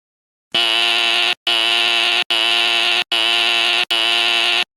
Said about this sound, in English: Now that was a lot of buzzing.